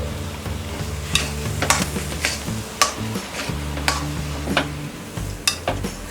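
Frankie masala being stirred into a potato mixture in a pan gives soft scraping and sizzling, punctuated by sharp spoon clicks against the pan at irregular intervals, close and alone.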